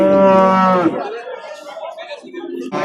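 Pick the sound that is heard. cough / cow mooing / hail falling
cow mooing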